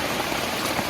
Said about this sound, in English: Look at that rain. Can you see the rain dripping?